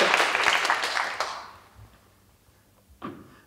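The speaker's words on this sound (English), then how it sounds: "Round of applause again for all." Audience applause at a Science Slam science-communication event, a burst of clapping that fades out over about a second and a half into near quiet, followed by a brief thump.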